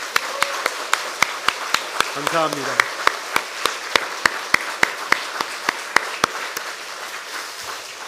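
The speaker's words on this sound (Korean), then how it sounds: "지금 우리가 다 같이 할렐루야 찬양대를 격려하고 축복하는 박수 함께 하겠습니다" A church congregation claps in unison for the choir during a Sunday worship service, a steady rhythm of sharp, evenly spaced claps over about eight seconds, with a brief spoken phrase partway through.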